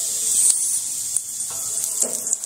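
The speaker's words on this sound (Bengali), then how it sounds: "এইভাবে ভালো করে পরোটাগুলো আগে ভেজে নিতে হবে, তারপরে সাইড থেকে এরকম করে তেল দিতে হবে" Soya paratha frying in oil in a pan, a soft steady sizzle with faint crackles and small pops, close and alone.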